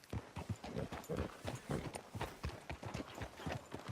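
Rhythmic clip-clop of horse hooves at a steady walk in the video game Red Dead Redemption 2, close and even, with faint background ambience and no voices.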